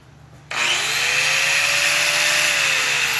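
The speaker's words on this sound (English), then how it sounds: "You want to come at it like this and grind till it gets" An angle grinder grinding down a weld on 3/8 inch steel plate starts up abruptly and holds a loud, steady, high whine with a harsh gritty rasp, running close and alone.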